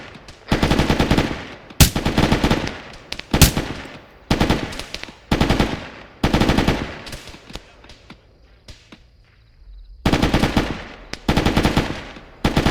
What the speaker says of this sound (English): Got troops firing on us from 149 far.